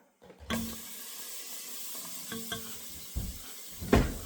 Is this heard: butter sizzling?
yes